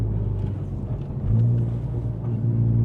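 A car engine fitted with a big turbo idles with a deep rumble, then revs up, growing louder and holding a steady roar.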